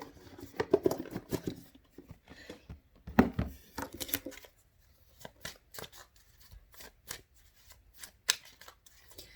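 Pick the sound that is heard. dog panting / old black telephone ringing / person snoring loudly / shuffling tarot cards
shuffling tarot cards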